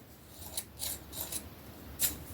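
Sewing scissors being sharpened, giving a few short, crisp crunching scrapes spaced out over a couple of seconds, close up and fairly quiet with no talk.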